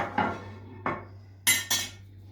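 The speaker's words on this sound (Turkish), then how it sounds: "bunların hepsini karıştırıyoruz şimdi" Sugar, nigella seeds, sesame and chili flakes being mixed in a bowl for spicy cookies, giving a few separate clinks and scrapes of utensil against the bowl, close and fairly quiet, with no talk.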